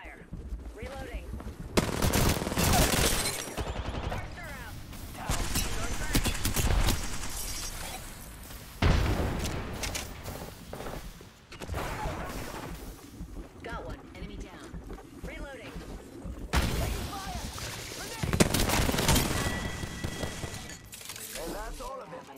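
Bursts of rapid automatic weapon fire in an Apex Legends firefight come in several loud volleys separated by short pauses, mixed with game effects and voices speaking over the action.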